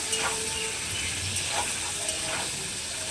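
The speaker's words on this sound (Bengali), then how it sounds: "পেঁয়াজটাকে তেলের সঙ্গে একটু নাড়িয়ে নেব" Sliced onions lightly fry in hot oil in a pan for a Bengali chilli chicken dish, a soft steady sizzle and hiss with faint scraping underneath, no talking.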